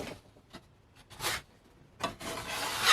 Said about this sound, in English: I'm just using a putty knife and glazing putty. And I'm just putting as thin a coat as I can on